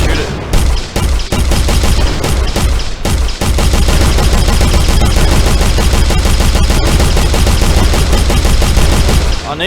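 Rapid sustained gunfire from an Unreal Engine video game, loud and dense automatic bursts with a few separate shots at the start, then continuous firing with no talk.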